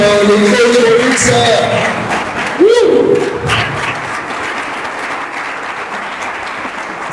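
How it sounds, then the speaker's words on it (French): An audience claps and cheers for the coaches at a talk, sustained crowd applause mixed with voices and a brief shout rising over it. "on va applaudir les coachs"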